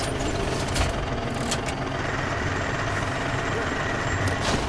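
Truck engine in SnowRunner, North Carolina map, running with a loud, steady low rumble and a few brief higher bursts that sound like air or mechanical hiss.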